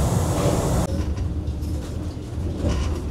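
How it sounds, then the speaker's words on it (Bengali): Vande Bharat Express running at speed after crossing Farakka, heard from inside the air-conditioned coach as a steady, rushing rumble with low rolling noise and faint rhythmic clatter, no talking. "ফারাক্কা পার করে দুর্দান্ত গতিতে ছুটে চলেছে বন্দে ভারত এক্সপ্রেস"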